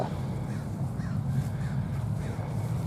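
Seagulls call faintly over a sailing course at a San Diego radio-controlled IOM yacht championship. A few thin cries rise above a steady, low wash of wind and water noise.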